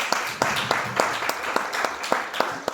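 Steady rhythmic clapping from a small crowd, sharp regular claps repeating at a brisk even pace, moderately loud and close.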